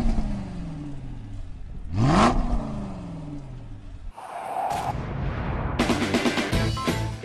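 Engine revving from an expensive sports car that starts with a motion control unit instead of a key. It rises and falls in several loud bursts, with a sharp rev in the middle and more aggressive blips toward the end.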